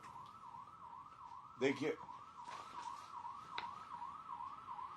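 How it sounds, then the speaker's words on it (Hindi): A vehicle siren wails in a fast, regular up-and-down pattern, faint and steady in the background from a road, while someone speaks briefly over it and other voices come and go. "सायरन की आवाज आ रही है"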